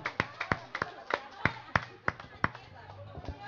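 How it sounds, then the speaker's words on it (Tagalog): A small crowd at an outdoor barangay gathering claps in a sparse, uneven pattern of distinct nearby hand claps. "Palakpakan naton si Sally Poblador"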